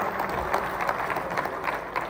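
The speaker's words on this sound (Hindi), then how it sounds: "आपकी भरपूर तालियों में" Audience applause at an international Urdu poetry gathering (mushaira), a dense, steady wash of clapping from many hands that holds at an even level for the whole two seconds.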